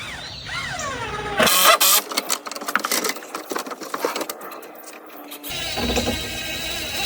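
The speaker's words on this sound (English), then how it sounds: "if you've got time to shoot some screws," A power screwdriver drives screws into ceiling joists, with a high whirring burst followed by a stretch of rattling, clattering driving and a final whine, loud and close with no talk.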